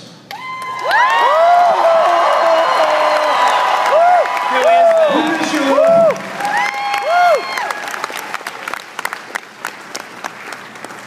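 A large convention crowd in Salt Lake City cheers loudly in a sustained roar of applause, whoops and shouts. The noise fades into scattered clapping toward the end.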